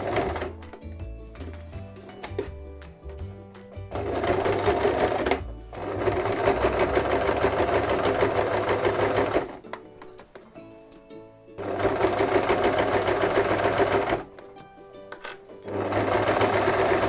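Sewing machine stitching a zippered crossbody bag from side to side, running in bursts of steady rapid whirring and clatter separated by brief quieter pauses with mechanical clicks.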